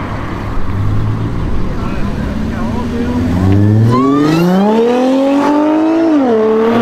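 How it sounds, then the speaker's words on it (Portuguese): Engine of a modified Audi A7 revs hard, a steady loud roar that climbs in pitch over the last few seconds, sweeping up and then easing slightly, close and dominant throughout. "Vocês viram esse Audi A7 aqui?"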